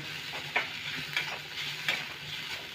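Paneer momo filling seasoned with salt and black pepper powder is stirred in a pan over a soft sizzle, with about four evenly spaced, close scraping strokes.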